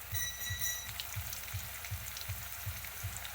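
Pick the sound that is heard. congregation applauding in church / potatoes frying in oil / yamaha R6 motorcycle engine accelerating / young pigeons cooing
potatoes frying in oil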